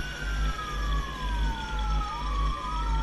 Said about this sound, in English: I can hear the siren